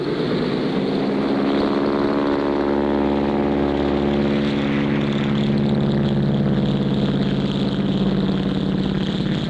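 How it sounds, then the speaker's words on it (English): Cartoon airplane from a 1959 bush pilot cartoon taking off, a loud continuous propeller engine drone with a rising whine, steady and close throughout, no talking. "Hey, neat takeoff, Clutch."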